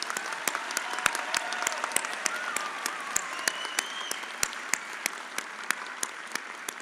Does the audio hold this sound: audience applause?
yes